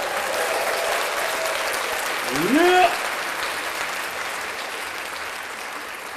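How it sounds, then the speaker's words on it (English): An audience at a live podcast event applauds in a steady, full wash of clapping. A voice briefly calls out partway through, then the applause carries on evenly. "Let's clap that up for Urban X being prepared and on time."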